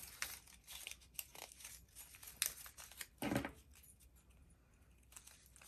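Paper being cut for a junk journal, with scissors snipping and crinkling in a quick irregular run of close, soft crisp strokes and one louder burst partway through.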